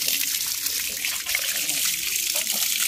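Tap water runs steadily and splashes while a puppy is being bathed, a continuous hiss under a few faint voices.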